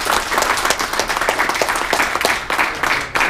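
Audience applause for a speaker being welcomed on stage, a dense steady wash of many hands clapping at close range that holds throughout, with no talking over it.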